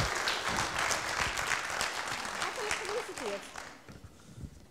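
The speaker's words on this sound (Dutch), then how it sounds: "Applaus voor Marit, jongens" Audience applause for a contestant at a children's reading competition, strong at first and then tapering off, with some voices and a little chatter breaking in as it fades.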